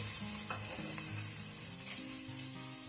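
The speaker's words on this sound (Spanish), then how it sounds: "vamos a poner un poquito de aceite o aceite de oliva a calentar y vamos a empezar a saltear cebolla picada, morrón picado" Chopped onion and bell pepper sautéing in heated olive oil, a steady close sizzle with light stirring scrapes and a faint low background hum, no voices.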